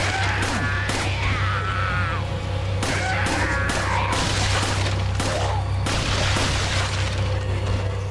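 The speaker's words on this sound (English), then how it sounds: "Pretty good fire rate on this handgun, though." Rapid handgun shots in the video game Resident Evil 4, a string of sharp cracks repeating quickly and loudly over a steady low droning background.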